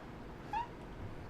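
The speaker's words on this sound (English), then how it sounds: "Got a cat talking to me here." A cat gives one short, clear meow, fairly close, against steady low background noise.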